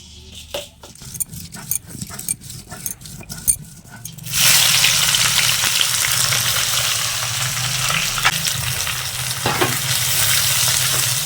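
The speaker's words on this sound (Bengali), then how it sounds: "কড়াইয়ে তেল দিয়ে নিচ্ছে মা, চিকেন রান্না করবে।" Oil is added to a wok and heats for chicken curry. A few scattered clicks and clatters come first, then a sudden loud, steady sizzle takes over and continues close up with occasional stirring, and there is no speech.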